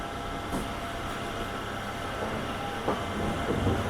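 A MEMU passenger train runs on rails between Tirupati and Katpadi, heard from on board as a steady, loud rumble of wheels and carriage noise with faint clicks over the rail joints and no talk.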